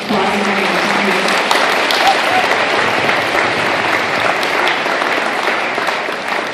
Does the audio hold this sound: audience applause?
yes